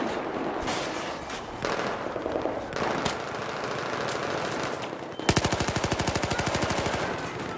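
Battlefield 4 multiplayer gunfire: scattered shots and rattling bursts give way to a loud, sustained machine-gun stream of rapid evenly spaced rounds, with no talk over it.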